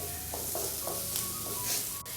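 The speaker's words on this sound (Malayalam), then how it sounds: "ഏകദേശം ഒരു 30 സെക്കൻഡ് മാത്രം നമ്മൾ ഇതുപോലെ ഒന്ന് വഴറ്റി കൊടുത്താൽ മതിയാവും." Masala sautéing in a pan over a medium flame for fried bread, a steady close sizzle with soft scraping stir strokes repeating through the clip.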